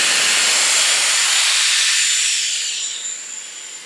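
A Dyson Airwrap hair styler blows a steady, loud rush of air that gradually softens toward the end, with no talk over it.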